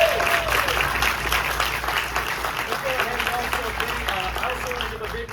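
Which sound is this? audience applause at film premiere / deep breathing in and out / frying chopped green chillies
audience applause at film premiere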